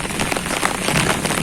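Heavy rain pours down steadily in a dense, loud, continuous hiss of drops on surfaces, with no voices.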